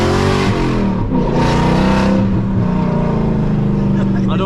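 Straight-piped Audi S4 tuned to around 400 horsepower, a loud raw exhaust drone with rising and dipping revs heard from inside the car, continuous and close throughout.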